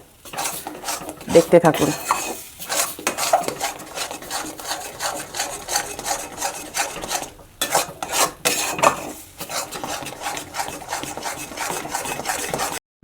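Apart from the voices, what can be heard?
stirring pea filling in pan to dry it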